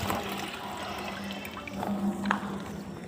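Water poured into a container that will be hauled up four floors by rope, a continuous close splashing gush at low level with a few small knocks.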